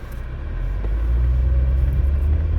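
A car engine rumbles low and steady as the vehicle rolls down a dead-end residential street, the sound growing slightly louder and fuller partway through.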